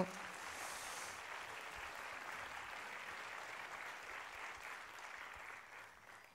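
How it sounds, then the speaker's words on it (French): A French audience gives steady, even applause as a guest walks on stage, a dense clapping wash at moderate distance that fades slightly toward the end; no speech. "Yves, vous pouvez l'applaudir s'il vous plaît lorsqu'il arrive sur scène"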